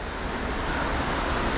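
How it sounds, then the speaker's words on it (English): White water rapids on the Youghiogheny River, a dense steady roar of rushing water filling the air without pause, loud and continuous. "And all this white water down here we see ahead through the trees of the Youghiogheny River"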